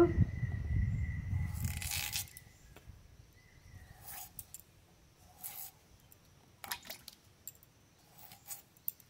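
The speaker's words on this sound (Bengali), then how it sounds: "আলু ছুলে নিয়েছি, আলু কেটে নেব।" Peeled potatoes being cut with a knife in a home kitchen, a few soft, damp slicing squishes and taps spaced irregularly after a louder opening bump, fairly close and quiet with no talking.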